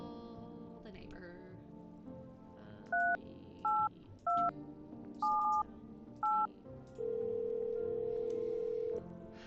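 Touch-tone keypad beeps from a phone being dialed in a video game, about half a dozen short tones at an uneven pace, then a sustained steady tone holding for a couple of seconds.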